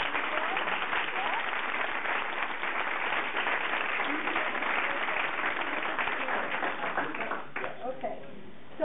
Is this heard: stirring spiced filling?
no